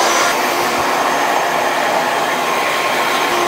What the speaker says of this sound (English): I'm gonna blast the top now.